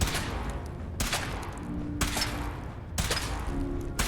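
Guns fire in Fallout 4 while a new suit is tested, with four sharp, evenly spaced shots about a second apart, each loud and close, ringing out over a low steady background.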